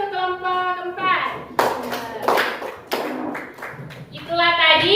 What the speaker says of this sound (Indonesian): tepuk tangan untuk kelompok keempat.